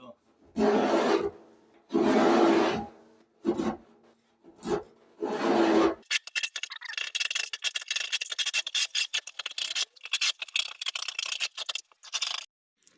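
Old white paint being scraped off the metal bodywork of a Simca Plein Ciel, heard as several loud, harsh scraping strokes, then a long stretch of quieter, rapid rattling scrapes.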